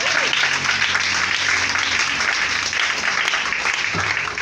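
A church congregation claps and applauds together in steady, dense applause that fills the room at a strong, even level throughout, with faint voices mixed in.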